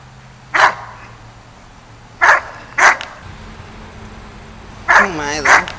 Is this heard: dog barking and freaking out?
yes